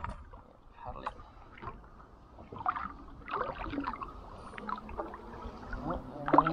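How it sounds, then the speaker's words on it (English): A kayak paddle dips and pulls through calm water as the boat is maneuvered in among bushes, with soft splashes, gurgles and hull knocks close by and a voice speaking intermittently. "Maneuver yourself in with your paddle."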